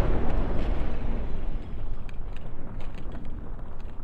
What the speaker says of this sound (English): These cannons of mine are not very good against armor.